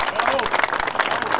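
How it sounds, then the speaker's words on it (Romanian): An audience applauds the mayor at a public event marking the completion of a boulevard extension. The clapping is dense and sustained, mixed with a voice speaking over it. "vă rog să-l aplaudați pe domnul primar"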